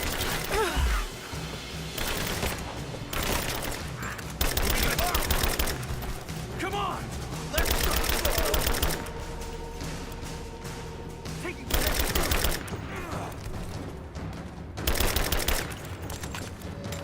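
Repeated bursts of gunfire in the Rise of the Tomb Raider village fight, loud volleys every few seconds with rapid shots between them, under shouted game dialogue.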